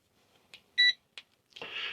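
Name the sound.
propane sniffer gas detector beeping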